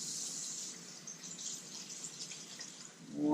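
Hands are washed under warm running tap water in a kitchen sink, a steady hiss of flowing water that shifts slightly as the stream changes near the end.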